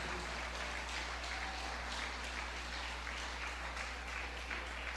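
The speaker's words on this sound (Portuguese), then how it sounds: "aplauda a palavra de Deus com bastante alegria" A church congregation applauds at a Bible study gathering, the clapping faint and distant as a soft steady patter over a constant low electrical hum.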